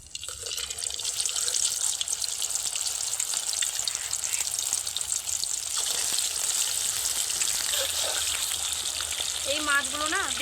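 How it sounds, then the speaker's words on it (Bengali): Fish pieces frying in plenty of hot oil in a wok for a Sankar fish curry, giving a steady, dense sizzle that holds close and loud throughout, with brief clinks and a faint voice-like squeal near the end. "এইবার একে একে মাছগুলো দিয়ে ভেজে নেব"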